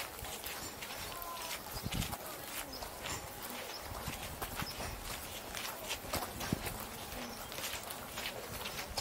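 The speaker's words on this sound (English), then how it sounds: "There's one horse." A single horse's hooves clip-clop along a street, repeated hollow knocks at an unhurried pace, fairly faint under steady outdoor noise and distant voices.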